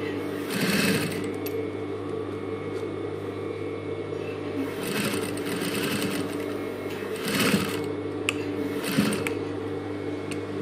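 Sewing machine stitching a zipper, quiet steady motor whir with several short bursts of rapid needle clatter, close by, with a voice talking at times.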